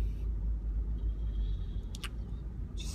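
Steady low engine rumble from inside a moving car, with faint road noise and a few brief clicks near the end.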